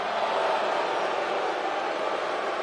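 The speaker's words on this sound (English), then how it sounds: "Are you seriously booing children?" Arena crowd in the WWE 2K24 wrestling game booing, a steady dense roar of many voices that holds evenly throughout at a constant level with no breaks.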